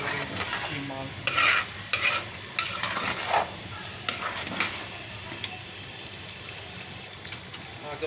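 Mash dal keema, a minced meat and black gram lentil curry with garam masala, frying and being stirred in a pan, with a steady sizzle broken by repeated scraping stirs and clinks of a spoon against the pan.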